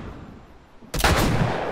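A single loud gunshot in The Last of Us video game cracks abruptly out of a quiet ambient background, followed by a sustained burst of noisy fire and debris that holds for nearly a second.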